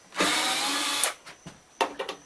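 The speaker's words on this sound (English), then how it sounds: "while we're getting these screws out" A power drill whirs steadily for about a second while backing screws out of an amplifier chassis, then stops, followed by a few light clicks and a brief second burst of the motor, close and loud.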